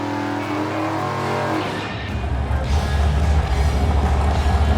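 A wheelstander drag car launches hard at the Buick GS Nationals, its engine note dropping into a loud, deep roar that builds and holds steadily, close and dominant with no talk.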